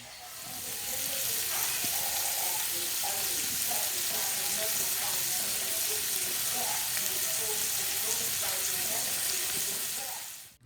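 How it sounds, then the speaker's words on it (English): Shrimp sizzle and fry in vegetable oil in a pan, a steady loud crackling hiss that runs continuously for about ten seconds with occasional stirring clinks, no talk over it. "I am going to cook these shrimp until they become pink on the outside"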